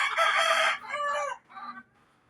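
A rooster crows loudly and close by in a long, strained call, followed by a shorter trailing crow, with faint clucking hens underneath.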